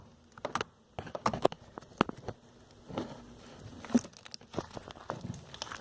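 Slime being stretched and squeezed close up in a quiet room, giving a series of soft, irregular crinkly clicks and pops with short pauses between them.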